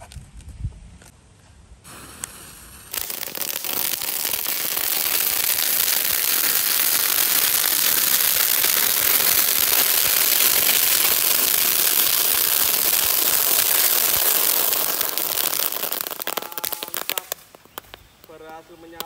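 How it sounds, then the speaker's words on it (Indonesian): A dense, continuous crackling roar of four boxes of dino-egg firecrackers going off at once in water, loud and sustained for about fifteen seconds before sputtering out. "Mercon telur dino pretek 4 kardus sekaligus."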